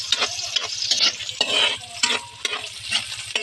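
Tomatoes sautéing in a pan for garlic shrimp, a steady close sizzle with repeated scraping stirs and clatters of a spatula throughout, no voices.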